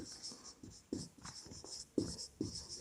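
Pen or chalk scratching out a maths equation in a quiet room: a run of short, close strokes with brief pauses between them, some taps louder than others.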